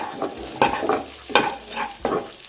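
Rice mixed with chilli powder and coriander powder is stirred and fried over a high flame, giving four or five rhythmic scraping strokes over a steady sizzle, close and fairly loud with no voices.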